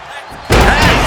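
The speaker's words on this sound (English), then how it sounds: "You heard the thud on the steps." A heavy wrestler slams onto steel ring steps in a powerbomb at an all-star wrestling event, a sudden loud impact bursting out over a noisy arena crowd and lingering roar.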